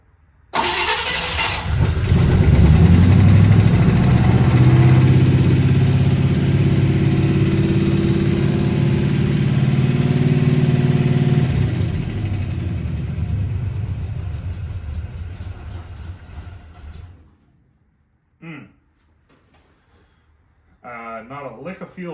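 Big-block rumble of a 1956 Chevy Bel Air V8 with collectors bolted on, cranking and catching into a loud, rough run for about twelve seconds before fading and cutting off, followed by quiet with brief voices.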